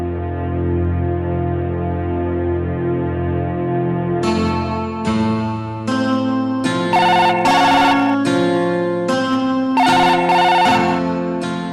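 Telephone ringing in a Marathi TV serial as a woman calls a friend's home, a sustained tonal ring followed by a repeating melodic ringtone pattern of bright pulsed notes, loud and alone without talk.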